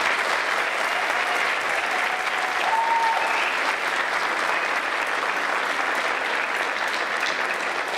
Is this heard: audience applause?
yes